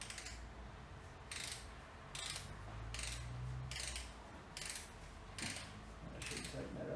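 A preset torque wrench ratchets on the camshaft bolts of a GSX engine fitted with BC camshafts, several evenly spaced bursts of rapid metallic clicking, each about half a second long, with low murmuring between them.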